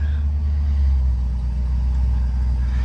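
A 1978 Lincoln Continental Town Car engine idling steadily after starting, a deep, continuous low rumble close by with no talk over it.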